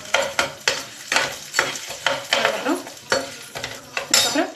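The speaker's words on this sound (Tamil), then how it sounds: "அப்புறம் கொஞ்சம் லைட்டாக இதை வதக்கி கொடுப்போம்." Drumstick leaves are lightly sautéed in a pan, with a utensil stirring and scraping in a repeated rhythm over a soft sizzle, close and fairly loud throughout.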